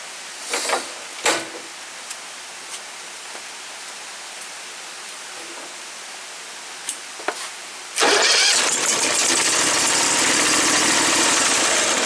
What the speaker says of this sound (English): if it fires up it's going to run like crap, but I'm just wanting to test the starter